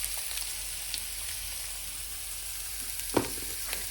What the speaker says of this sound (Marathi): मला आता टाकला कांदा. आता याला चांगलं हलवून घेते.